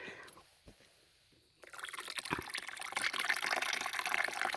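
Water from a tap runs into an outdoor tub used for watering a vegetable garden; quiet drips at first, then a steady louder splashing fill for the rest of the moment.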